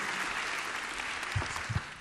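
An audience at a PechaKucha night in San Antonio claps steadily for a speaker taking the stage, a dense wash of applause with a few louder claps and whoops near the end.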